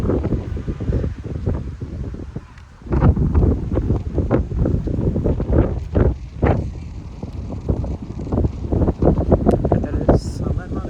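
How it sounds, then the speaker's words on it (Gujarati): Strong outdoor wind buffets the microphone with a low, rumbling roar beneath continuous talking. "અહીંયા પવન તો બહુ છે"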